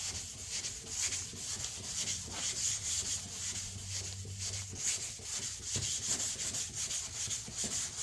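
Hand sanding on a little blue Camaro's car body in paint prep, steady rhythmic scraping strokes close to the microphone with no talking.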